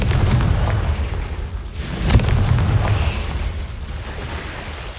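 A Confringo blasting curse goes off in Hogwarts Legacy as a loud, close explosive boom with a sharp burst at its peak and a rumbling roar that slowly fades.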